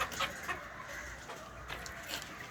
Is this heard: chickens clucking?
yes